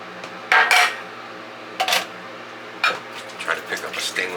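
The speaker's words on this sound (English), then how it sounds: "stainless steel bowl." A stainless steel shaving bowl handled with soapy fingers, giving a few bright metallic clanks and scrapes in separate bursts, close and fairly loud, with lighter rattles near the end.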